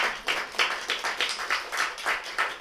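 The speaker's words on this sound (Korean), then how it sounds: "박수 먼저 한번 할까요?" A church congregation claps together in a brief round of applause, several bursts of hand claps blending into a moderate, slightly distant patter that lasts a couple of seconds.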